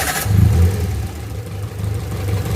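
A car engine idles with its idle-up solenoid switched on after an air-conditioning idle-up modification, giving a steady low rumble with slight rises in speed, close and alone.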